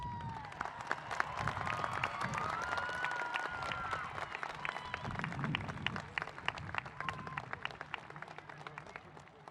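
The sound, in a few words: applause for the graduation readers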